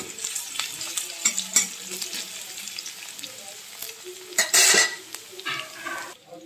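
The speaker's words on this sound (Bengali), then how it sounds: "আমি এই গরম তেলের ভিতরে কিছুটা রসুন থেতো করে দিয়েছি, এবার একটু হালকা করে ভেজে নেব।" Crushed garlic fries in hot oil, a close crackling sizzle broken by the scrape of stirring and a few metal clinks of a utensil against the pan.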